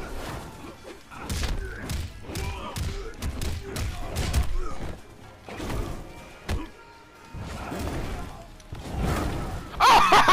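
Punchy impact thuds from Liu Kang's uppercut and other blows in Mortal Kombat X, arriving as a rapid run of close, heavy hits with game noise between them.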